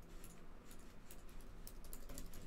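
Rapid, uneven keystrokes on a computer keyboard used for typing on a Mac, a steady close patter of light clicks running continuously with no voices.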